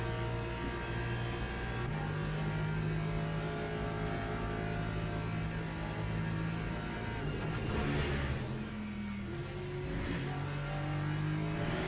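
Racing car engines drone and whine on track as a Ferrari closes in from behind, a steady, layered roar with pitch shifts and no voices.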